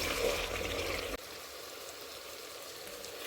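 Spice masala frying in oil in a home kitchen while cooking meat, a soft steady sizzle with a louder, brighter stretch in the first second before settling to a quieter continuous hiss.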